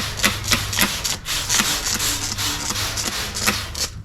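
Sanding a car panel by hand during spray-paint prep, a rhythmic back-and-forth scrubbing rasp with regular strokes, close and alone without any voices.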